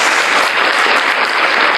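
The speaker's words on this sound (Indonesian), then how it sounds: "Boleh tepuk tangan memuji Tuhan" A church congregation claps together in praise during a worship service, a loud, dense, continuous burst of hand clapping filling the short moment.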